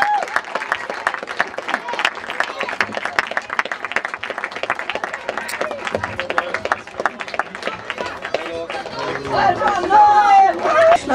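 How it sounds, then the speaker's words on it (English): A crowd applauding a medal presentation at a Premier finals event, with sustained clapping mixed with chatter and hubbub that swells toward the end. "Give him a round of applause."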